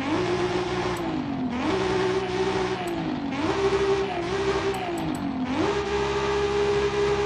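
Stock-camshaft car engine in Forza Horizon 5 revving repeatedly, rising and falling in steady waves of pitch, loud and close with no talk.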